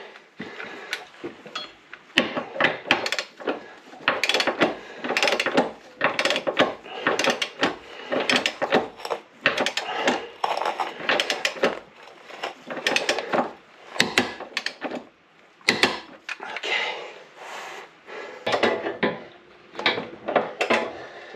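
A wrench ratchets in rapid clicking bursts while tightening bolts on a Curt trailer hitch being fitted to a Toyota RAV4. The bursts are loud and close, with brief pauses between runs of clicks.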